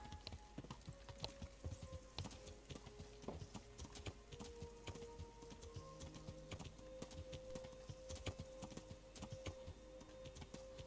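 Hooves of a ridden horse clip-clop steadily in Kingdom Come: Deliverance, a brisk continuous gait close by, layered with faint ambient game sounds and no talking.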